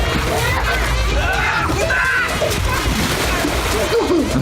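Water churning and sloshing in a pool aboard a pirate-ship boat off the coast of Turkey as a person is pushed back in, splashes under steady talk and shouts from nearby people.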